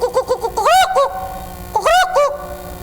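Rooster crowing, apparently imitated by a human voice: two drawn-out, wavering crow calls, each led by short clucking notes, loud and close with a brief pause between them.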